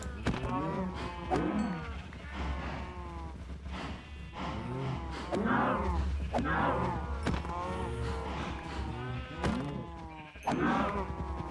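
Repeated bleating from a crowd of crammed cows in a video game as they are being killed off, several overlapping calls close together over a steady low hum, with faint talk underneath.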